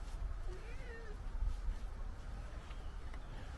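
A cat meows close by in the morning, a short rising-and-falling call in the first second, followed by quieter low rustling and background noise with no talking.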